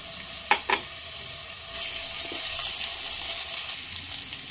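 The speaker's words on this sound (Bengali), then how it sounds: "পেঁয়াজ মিডিয়াম ফ্লেমে 2 থেকে 3 মিনিট ভেজে নেওয়ার পর দিয়ে দেব 1 টিস্পুন আদা রসুন বাটা।" Onions frying over a medium flame with ginger-garlic paste, a bright continuous hiss of oil that swells midway, preceded by a couple of close utensil knocks, no talking.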